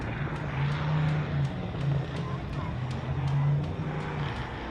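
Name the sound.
4570 Poison Spider off-road race car approaching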